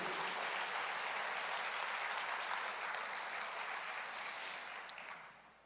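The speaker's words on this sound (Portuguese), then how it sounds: "aplauda ao Senhor" Worshippers in a church service clapping praise to the Lord, a broad, even roar of many hands that holds steady, then gradually tapers off at the end.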